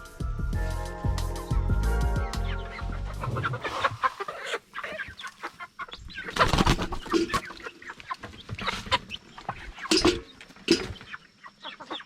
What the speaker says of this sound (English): So today we're going to get the chickens out of here.